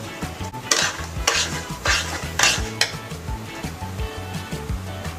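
Semolina is roasted and stirred in a pan over a medium flame, a close, steady scraping and rustling with soft sizzling and repeated utensil knocks against the pan.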